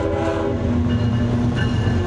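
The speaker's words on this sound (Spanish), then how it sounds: "además del ensordecedor ruido de los frenos" A freight train rolls past close by, its wheels grinding loudly on the rails while sustained squealing brake tones ring over the heavy rumble, continuous for the whole stretch.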